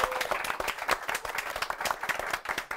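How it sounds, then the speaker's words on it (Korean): An audience at a book forum panel talk gives a brief burst of dense, steady hand clapping at moderate volume, with no one speaking over it. "속기사님들 오늘 너무 수고하셨는데 그분께 박수 드리겠습니다"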